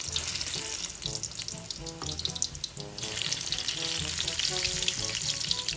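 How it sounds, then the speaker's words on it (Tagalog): Ripe bananas frying in cooking oil for banana cue, a steady close sizzle and crackle running throughout with occasional clinks of a utensil and brief washing-like water noise. "Sa pagpiprito talaga mga kadilag ng saging ay eh, mas okay na lubog sa mantika"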